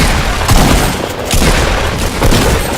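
Dense, booming gunfire from the video game Fortnite, presumably pump shotgun blasts, with several heavy shots landing about every half second over constant loud game noise.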